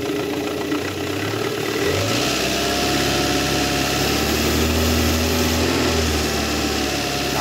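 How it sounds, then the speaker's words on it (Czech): A car engine fitted with a 70 A alternator and charging a battery, revved slightly above idle, giving a steady close mechanical drone with a rising whine and no speech. "Když motor trochu vytočím"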